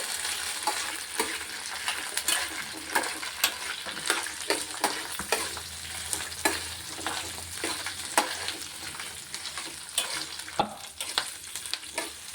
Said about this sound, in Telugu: ఎల్లిపాయలు ఎల్లిపాయలు దోరగా వేగుతున్నాయి